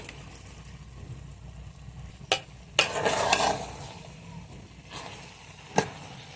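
Meat being stirred into tahari in a pot, with a soft sizzle under scraping spoon strokes against the metal and a few sharp clinks, close and fairly quiet.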